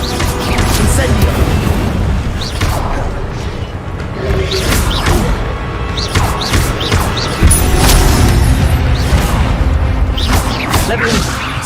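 Incendio fire spells cast repeatedly in Hogwarts Legacy, whooshing flame bursts and booming impacts over busy combat noise, with a voice talking between casts.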